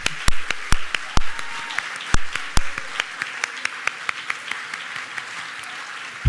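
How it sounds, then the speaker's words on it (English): Scattered audience clapping at a charity ball: a few loud, close, sharp claps stand out over a thinner spread of distant hands, gradually tapering off toward the end. "Okay, now you can clap."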